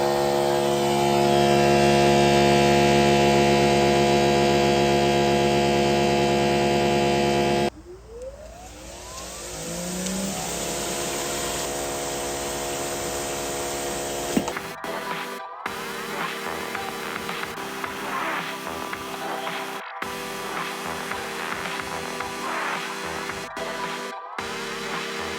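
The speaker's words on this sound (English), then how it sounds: "let's go ahead and switch over to the surface cleaner. Again, this is the 11-inch surface cleaner" A Greenworks Pro 3000 pressure washer runs with its 11-inch surface cleaner, a loud steady motor whine that cuts out and restarts into a harsher spinning hiss with brief dropouts, sustained close by with no talk.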